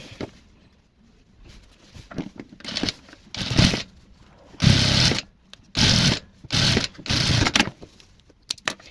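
Sewing machine stitching the top edge of a child's apron hat, running in several short bursts of about a second each with brief pauses between, close and fairly loud.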